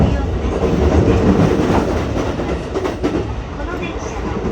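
Interior running noise of a JR West 223 series 2000 electric train with Hitachi IGBT traction, on a Shinkaisoku rapid service between Himeji and Kakogawa: a steady rumbling roar with rhythmic wheel clatter and faint announcement-like voice beneath.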